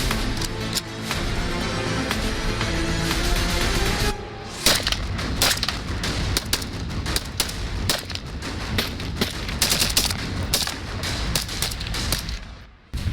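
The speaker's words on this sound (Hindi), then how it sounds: "तो एक छोटा सा फायरिंग का नमूना हो जाए?" Soldiers firing weapons in a demonstration: a dense stretch of sharp, loud shots and cracks rings out for most of the passage, preceded by a few seconds of steady engine-like rumble.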